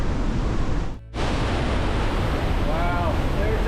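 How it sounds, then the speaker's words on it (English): Water pours down from a mountainside waterfall in the Lauterbrunnen Valley, Switzerland, a steady, loud broadband rush that briefly dips for about a second before resuming its constant roar. "there's just tons and tons of water just spilling out of the mountain"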